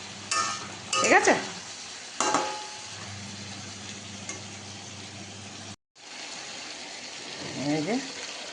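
Ground spices fry and get stirred in a pan, with soft continuous sizzling and scraping strokes, and a person speaks briefly over it near the start and end.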